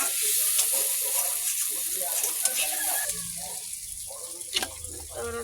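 Potatoes frying in a pan, a steady bright sizzle running throughout with occasional stirring clatter, while a person talks over it.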